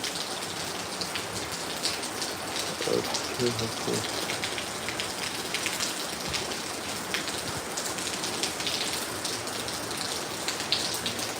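Steady monsoon rain pours in Kozhikode, a dense, even hiss of drops on surfaces filling the whole stretch, with a faint voice briefly underneath.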